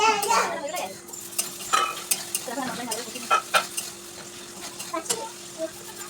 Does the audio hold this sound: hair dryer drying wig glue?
no